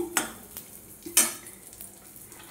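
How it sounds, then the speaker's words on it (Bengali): Raisins and cashews fry in ghee with a soft low sizzle, broken by two sharp metal clinks of a spoon stirring against the pan. "আর এখানে ড্রাই ফ্রুটগুলোকে আমি ভালো করে ভেজে নেব"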